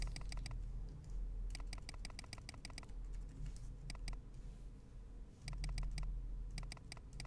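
Rapid bursts of key presses clatter on a Lily58 split ergonomic keyboard with an acrylic tented case and XDA keycaps, several quick runs of clicks separated by short gaps, close and clear over a low room hum.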